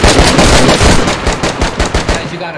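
Gunfire in DayZ cracks out in a rapid string of loud, close shots, irregularly spaced bursts that keep coming one after another before tapering off, with no speech.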